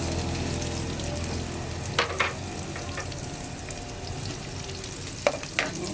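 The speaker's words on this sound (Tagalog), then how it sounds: "Ayan, gisa lang natin ng maigi." Onions sauté in a pan, a steady close sizzle and crackle running throughout, broken by a few sharp scrapes and taps of the stirring utensil.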